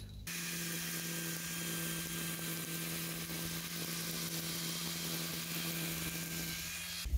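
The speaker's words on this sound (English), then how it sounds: "because my string trimmer head is turning counterclockwise" Steady whine of a string trimmer with its head spinning counterclockwise, cutting grass along a chain link fence, a constant near drone with a faint high hum running unbroken throughout.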